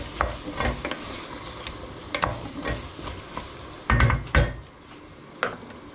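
Potatoes cooking in a generous amount of fat in a pan for a Hungarian dish: a steady low sizzle with repeated stirring scrapes and a few louder clatters of utensil against pan, heard close.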